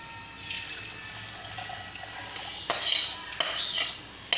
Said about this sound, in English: Here the jaggery has been melted. Now let me just filter it for impurities.